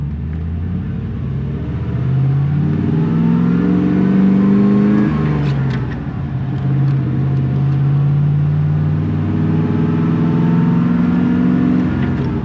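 A Land Rover Defender 110 pulls away in first gear, its engine revving up loud and close, dropping briefly before climbing again in a steady rising drone.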